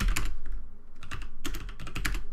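Rapid clattering keystrokes on a computer keyboard, typed in quick bursts with short pauses, close and fairly loud, no talking.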